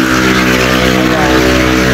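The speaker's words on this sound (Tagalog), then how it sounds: "Ingay ng motor dito" A loud, steady motorcycle engine drone close by, rumbling continuously with a constant low hum and a voice talking over it.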